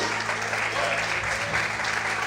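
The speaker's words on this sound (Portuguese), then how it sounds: "Quantos podem aplaudir e glorificar ao Senhor bem forte?" A church congregation claps together in dense, continuous applause, loud and even throughout the short stretch with a low murmur beneath.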